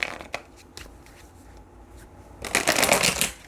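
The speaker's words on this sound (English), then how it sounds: "Let's get one more shuffle." A few soft taps, then a riffling burst of tarot cards being shuffled close up near the end, with no talking.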